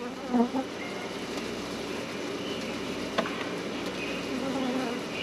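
A dense swarm of bees drones continuously at close range, a steady buzzing hum with occasional individual bees passing near.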